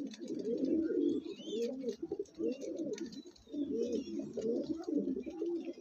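Andhra pigeons coo continuously nearby, a male in the mix, giving dense, overlapping throaty rolls with brief pauses, loud and full throughout.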